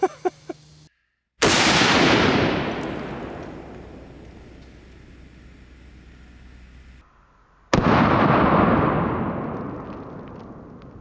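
Two loud pistol shots fired at point blank range, less than a foot, into a ballistic torso dummy, each a sharp close blast followed by a long ringing decay, with brief clicks before the first.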